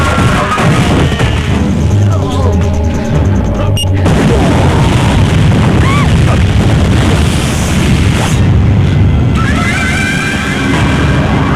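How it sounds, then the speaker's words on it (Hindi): Bomb blast in a Bhojpuri action film: a loud, dense boom erupts around the four-second mark and gives way to a sustained rumbling roar mixed with the film's soundtrack. "अमृत बहन को बम से उड़ाएगा कमीना का।"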